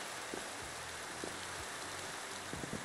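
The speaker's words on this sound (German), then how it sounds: "Es regnet!" Steady, soft rain falls in Minecraft, a dense even patter with a few faint lower thuds, quiet and continuous throughout.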